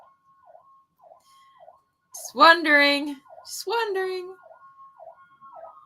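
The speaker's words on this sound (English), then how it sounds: "Do you hear the sirens in the background?" Sirens wail in the background, repeating a steady warbling cycle throughout, while a person talks briefly over them in the middle.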